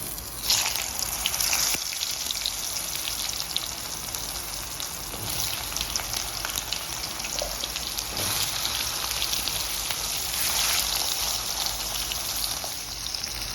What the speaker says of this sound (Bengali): আলুগুলোকে আমি লাল লাল করে একটু ভেজে নেব।